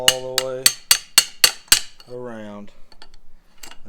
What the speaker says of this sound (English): take an adjustable wrench and a hammer and just kind of just slightly tap